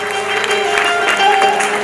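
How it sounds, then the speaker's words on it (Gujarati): Thunderous applause for donors at a Makvana family gathering, dense crowd clapping sustained and fairly loud throughout, with faint voices beneath. "તાળીઓના ગડગડાટથી વધાવતા રહ્યા દાતાઓને."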